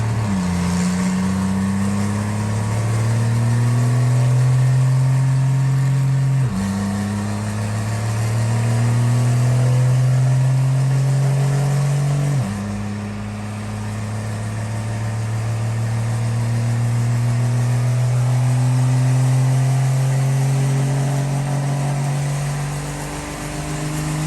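A UCC truck fitted with a GT55 turbo roars on a dyno in three long pulls, each rising steadily in pitch before dropping back and climbing again; loud and close, with no voices.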